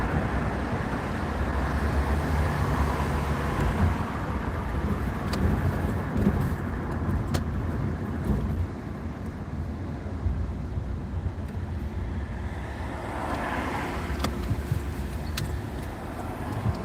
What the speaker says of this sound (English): Cars on the left.